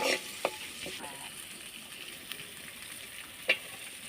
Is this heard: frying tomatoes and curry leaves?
yes